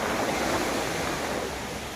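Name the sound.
ocean waves in wind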